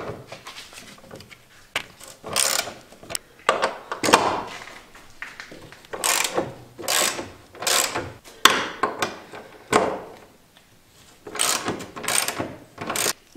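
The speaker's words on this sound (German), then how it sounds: "Dazu schrauben wir erstmal die 3 und die 3 Bolzen ab mit einer E18er Nuss." Ratchet with an E18 socket loosening bolts on an Opel Astra subframe, close rapid clicking in repeated bursts with short pauses between strokes.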